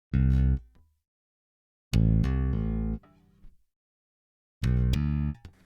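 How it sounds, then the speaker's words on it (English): A plucked electric bass plays a short riff in three bursts separated by silence, deep and rounded with clear harmonic tones, for a Wakanda-themed beat. "The first one is the electric bass, and I'll let you hear that."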